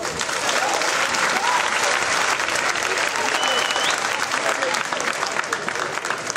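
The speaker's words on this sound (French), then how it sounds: "Normalement ça s'acclame." Sustained applause from an audience at a professional talk in Togo, dense and steady clapping filling the room without a break for several seconds.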